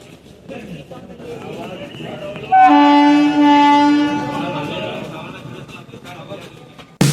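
A train at Bankura railway station sounds a loud horn blast of about a second and a half. Its rumble and the station noise then fade slowly.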